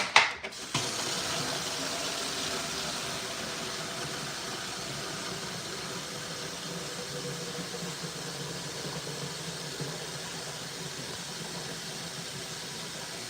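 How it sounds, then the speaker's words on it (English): Tap water runs steadily into a container for a grow-tent nutrient mix, a continuous broadband rushing hiss that starts with a brief clunk and holds at an even level throughout, with no talking. "So I'm just gonna fill this up with water."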